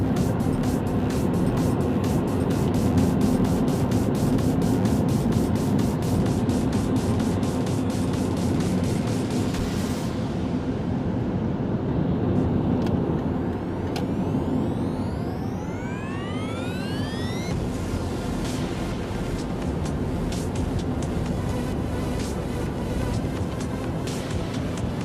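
A hybrid car cruises on a ring road at steady speed, giving a constant, moderate hum of tyre and road noise with faint swells and a brief rising whine partway through.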